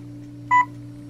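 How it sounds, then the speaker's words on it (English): A single short electronic beep from an Apeman 1080p Wi-Fi PTZ security camera, signalling it is ready, rises briefly over a steady low hum, clean and fairly close. "The two tones you just heard means it's ready."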